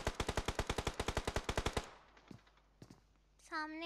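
Rapid gunfire from a PUBG Mobile match, about seventeen sharp, evenly spaced loud shots in under two seconds, followed by a couple of faint distant pops and a brief rising tone near the end.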